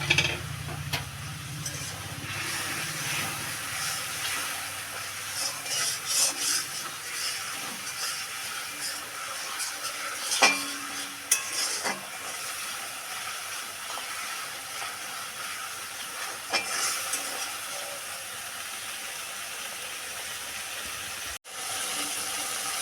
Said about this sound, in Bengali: নেড়েচেড়ে ভেজে নিয়ে মশলা থেকে তেল ছাড়া পর্যন্ত অপেক্ষা করব।